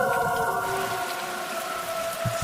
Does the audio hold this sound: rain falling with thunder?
yes